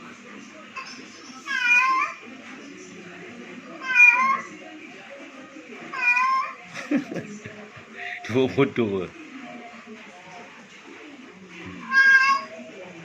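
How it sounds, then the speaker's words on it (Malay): Recorded meows of a female cat in heat calling a male play in repeated drawn-out wavering cries about every two seconds, loud and close, with someone speaking briefly between them. "Suara kucing betina berahi panggil kucing jantan."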